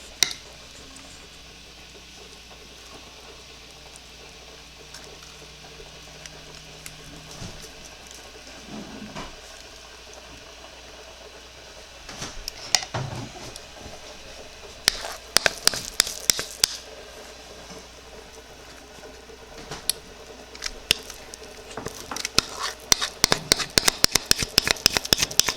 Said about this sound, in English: and now I'm going to pour the batter in